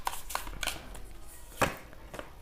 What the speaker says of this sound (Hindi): Okay, let me shuffle the cards.